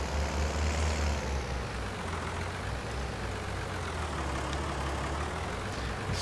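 A large tractor's engine idles in Farming Simulator 2019, a steady loud low diesel rumble running throughout with no talk over it.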